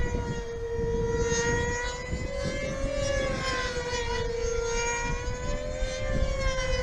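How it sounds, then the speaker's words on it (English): A Ritewing RC flying wing comes in to land. Its motor and propeller give a continuous buzzing whine that rises and falls slightly in pitch, heard fairly close with no talk. "He's coming in for a landing."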